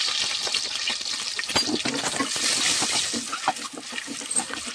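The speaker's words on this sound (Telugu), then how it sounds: "ఇప్పుడు మనం గుడ్లను వేపేసుకుందాం. అన్నంలో ఆయిల్ పోసుకొని ఎగ్స్ వేసేద్దాం." Eggs frying in hot oil in a pan, a continuous bright hiss with scattered crackles and pops, close and moderately loud, no one speaking.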